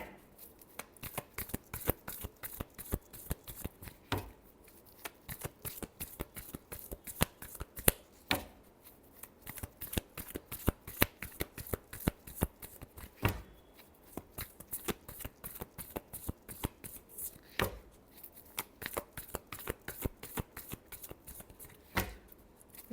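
Tarot cards are shuffled over and over close by, a quick rhythmic run of crisp riffling bursts and soft slaps that repeats steadily throughout with no talking.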